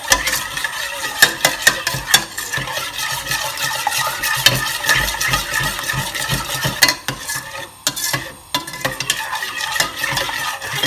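A utensil constantly stirs scrambled egg in a pan, scraping and clinking steadily against the metal close by over a soft sizzle, with a few brief pauses.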